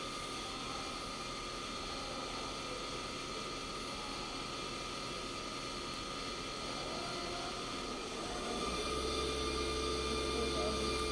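Leadwell vertical machining center with a 50 taper spindle stopping, shifting gears and spinning back up, a steady broadband machine hum with a tonal whine, growing louder with a low drone near the end.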